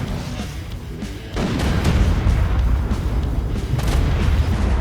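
A grenade blows up in the video game ARK as a loud, deep, rumbling boom that sustains for several seconds over a quieter background.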